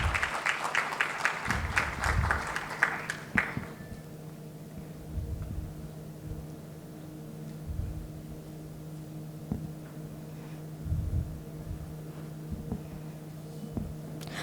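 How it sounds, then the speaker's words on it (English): A burst of audience applause at a stroke conference panel in a hotel hall, loud for about three seconds, then stopping abruptly into a quiet room with a low steady hum and a few faint knocks. "Can we please have a huge round of applause for the inaugural panel today?"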